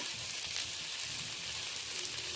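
Fried eggplant is mixed with black cumin in a hot pan, giving a steady, close sizzle of frying oil with faint stirring, and no talk.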